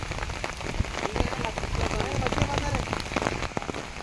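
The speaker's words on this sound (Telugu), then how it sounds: "చూసిన ఫ్రెండ్స్ వర్షం ఎట్లా పడుతున్నదో" Steady rain pattering on a surface, with dense drop hits throughout and continuous wash, fairly close.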